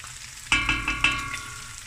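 Tomato paste sizzles and fries in a pot, with several sharp scraping stir strokes in quick succession near the start, then a steady soft sizzle alone.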